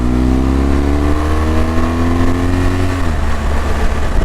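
A BMW GS motorcycle accelerates hard onto a German Autobahn, its loud, close engine note climbing steadily in pitch before a gear change drops it back, with steady wind roar throughout.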